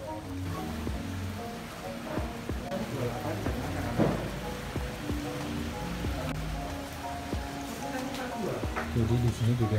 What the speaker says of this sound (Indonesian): masih suasananya masih hujan dan agak dingin